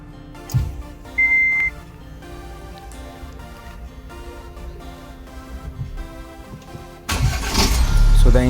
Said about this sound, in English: Now we will turn on the engine.